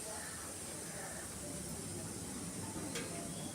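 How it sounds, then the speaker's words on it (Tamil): A wood fire burns in a stove beneath a pot of water being heated, giving a steady, dense roaring hiss that fills the scene evenly from start to finish, close and fairly loud. "அடுப்பில் நெருப்பு எரியுதுன்னு தானே பார்க்குறீங்க"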